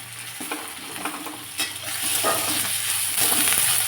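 Turmeric and asafoetida tempering for dal sizzles in hot oil in a pan, a steady close crackle broken by scraping stirs that swells louder in the second half.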